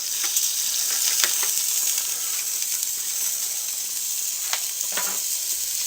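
Meat loaves sizzling on a small grill at a Mardi Gras tailgate party, a steady close crackling hiss with occasional sharper pops and spits, no talking.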